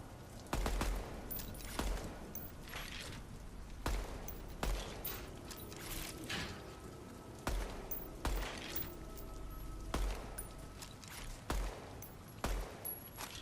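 Bursts of gunfire from the video game DEADROP, with repeated sharp shots and rapid volleys spread across the stretch at steady loudness, no talking over them.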